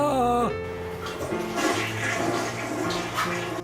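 A toilet flushes in a home, a rushing, gurgling swirl of water that fills the whole stretch after a brief musical sound at the start, fairly close and alone.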